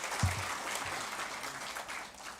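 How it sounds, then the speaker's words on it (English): Audience at a hospital launch event in Bangalore breaks into steady applause, moderately loud and continuous throughout, with faint voices barely present underneath. "ಮತ್ತೊಂದು ಸಲ ಜೋರಾದ ಚಪ್ಪಾಳೆ."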